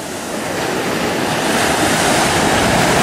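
Ocean surf rolling in on a beach in Bali, a loud continuous broadband wash of breaking waves with wind buffeting the microphone, steady throughout with no voices.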